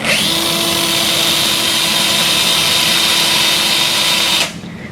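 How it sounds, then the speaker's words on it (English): A surgical power drill runs continuously into the hamate bone of a sawbones model wrist during a total wrist arthroplasty technique, a loud steady whine that stops abruptly near the end. "drill until the distal cortex of the hamate"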